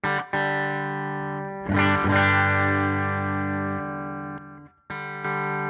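Electric guitar played through a Vemuram Jan Ray overdrive pedal with the gain turned all the way down, giving a clean, lightly boosted tone: sustained chords ring out, a fresh strum comes near the two-second mark and another follows after a brief gap near the end.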